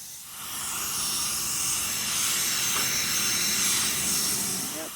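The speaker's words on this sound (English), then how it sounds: "once he starts using the power spray that's going to freak her out" Steady loud hissing spray from a pressure washer cleaning a van runs throughout without pause, a broad rushing noise close by.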